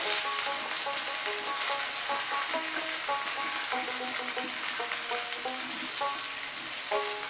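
Grated cauliflower with chopped green chillies sizzling in a hot pan, a constant crackling fry with steady spatula stirring close by.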